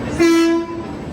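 Horn of the Dhanbad Patna Express sounding at a platform on arrival, three hours late: one steady, loud blast of about half a second over low station hum.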